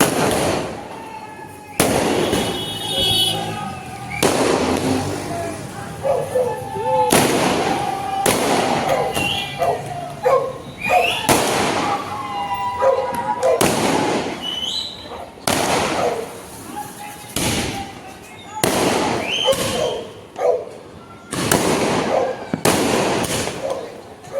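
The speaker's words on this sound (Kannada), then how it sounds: "঒ಂದು ಪಟಾಕಿ ಸೌಂಡ್ ಗೆದ್ಬಿಟ್ಟವನೆ ಗಾಯ್ಸ್" Firecrackers burst outdoors during a celebration of an RCB cricket win: loud, sharp bangs come in irregular bursts one after another, with crackling between them and faint voices in the background.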